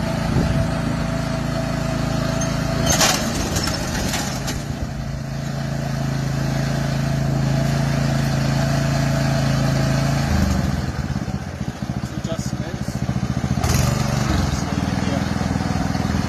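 A small lawn aerator corer engine runs steadily and loudly throughout, droning with a rough mechanical rattle, with a person talking over it.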